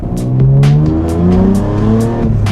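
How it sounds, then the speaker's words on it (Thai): A Nissan Fairlady Z with a V6 engine revving hard under acceleration, a loud close engine note rising and shifting pitch in steps, with sharp repeated transient bursts on top through the short stretch. "จังหวะที่รถกระชาก ออกตัวแรงๆเนี่ย แล้วเบรกทันทีเนี่ย"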